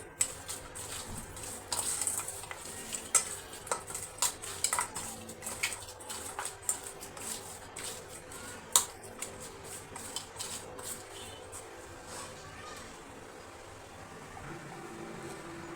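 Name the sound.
mixing turmeric powder into food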